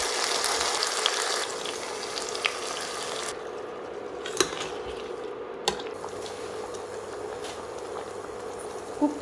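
Steady sizzling and bubbling of a tomato and cashew paste frying in a pan, with occasional small clinks and pops; no talking.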